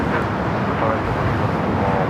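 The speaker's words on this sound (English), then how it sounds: "Singapore is our next heavy departure here on the south side" Jet roar from a Singapore Airlines Boeing 777-300ER taking off from the south side of LAX, bound for Tokyo Narita, fills the moment as a steady, loud, broadband rumble, with a voice speaking over it.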